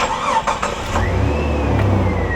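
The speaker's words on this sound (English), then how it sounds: "Fires up like a champ." A Jeep Cherokee's 4-liter engine with 108,000 miles cranks with a quick whirring starter, then catches and settles into a steady low idle rumble, close and loud.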